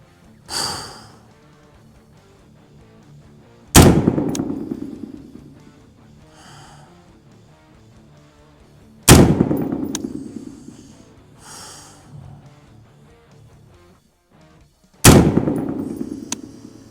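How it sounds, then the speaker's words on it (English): Four loud AR-15 rifle shots fired at a zeroing target on an outdoor range, each a sharp crack with a ringing decay, spaced several seconds apart with quiet between them. "So I'm gonna shoot at a new clean zero target."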